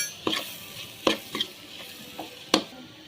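Potatoes with cumin powder sautéed in a pan for a South Indian potato poriyal: a few distinct scraping stirs from a spoon against the pan over a soft background sizzle, close and fairly loud, without speech.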